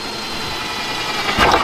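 A power drill fitted with a cheap bit drills pilot holes in the bodywork of a Mazda RX7, making a steady close whine that grinds harder in a short burst at the end.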